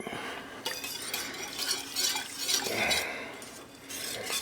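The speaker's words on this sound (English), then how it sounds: "Stir it." Chicken paprika with sour cream being stirred in a pot, close-up spoon scraping and clinking against the pot in a continuous uneven rhythm.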